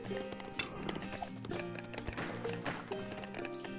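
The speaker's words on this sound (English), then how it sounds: "What's this horse still doing here?" Horse hooves clip-clop in the real-time strategy game 0 A.D., in short, scattered taps mixed under steady in-game music and effects.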